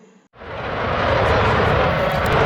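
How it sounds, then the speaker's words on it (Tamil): A French Rafale fighter jet's engine rises out of a brief quiet gap into a loud, sustained roar that builds and holds steady, with no one talking. "இது பிரான்ஸ் நாட்டின் ரஃபேல் விமானம்."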